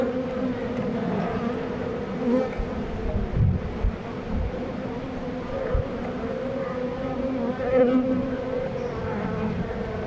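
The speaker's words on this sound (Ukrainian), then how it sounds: "ну бджола неспокійна" Dense, steady buzzing of many agitated honey bees close by around a hive frame, a continuous droning hum with occasional louder passes, no talking.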